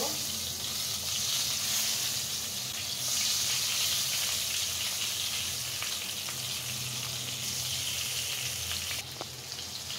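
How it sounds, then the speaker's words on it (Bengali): Sliced eggplant frying in oil in a pan, a continuous close sizzling hiss with brief bubbling swells, fairly quiet and unbroken. "বেগুনটাকেও ফ্রাই করে নেব"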